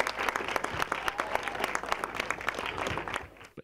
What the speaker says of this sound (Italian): Ma avete un grande applauso a questi ragazzi, di più